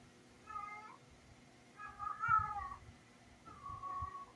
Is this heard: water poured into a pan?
no